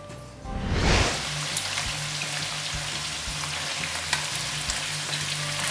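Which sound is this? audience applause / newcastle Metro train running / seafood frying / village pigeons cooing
seafood frying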